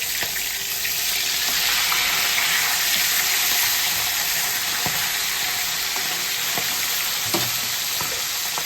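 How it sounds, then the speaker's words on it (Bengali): Salted fish frying in a pan on its second side after the flip, a dense, steady hiss of hot oil with faint crackles and a soft clink or two, close and loud, no voices. "এই সাইডটা ভাজা হয়ে গেছে, এবার মাছটা আমি উল্টিয়ে দিচ্ছি।"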